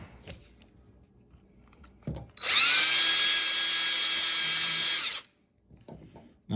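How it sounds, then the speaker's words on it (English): A power drill with a number 10 bit whirs at a steady high pitch for about three seconds, close and loud, between soft handling clicks before and after. "so I'm going to do a little bit of drilling."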